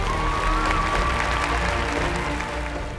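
Steady applause from an appreciative crowd under lights at a horse show jumping jump-off final, a continuous clapping wash for a few seconds that slowly fades.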